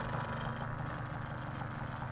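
A paramotor's engine runs loudly and steadily nearby at a takeoff spot, a dense throbbing drone with no change in pitch across the short stretch.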